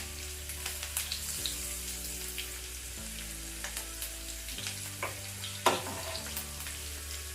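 Green apple and green chilli pieces for pickle fry on low flame, a steady close sizzle with occasional spatters and soft stirring scrapes, no voices.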